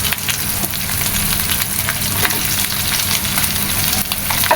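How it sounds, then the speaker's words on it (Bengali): Prawns and onions fry together in a pan, a steady close sizzle with scattered crackles and occasional stirring scrapes and no voices. "এই পেঁয়াজগুলো আমি মাছের সাথে আস্তে আস্তে করে ভাজি করে ফেলবো"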